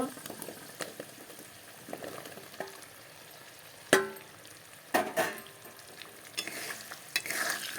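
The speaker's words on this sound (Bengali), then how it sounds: "কেটে রাখা পেঁয়াজগুলো এখন ঢেলে দেব" Chopped onions tipped into hot oil for a chicken and potato curry crackle and sizzle faintly, broken by sharp clicks and scrapes of a spatula against the pan, with bursts of sizzling near the end.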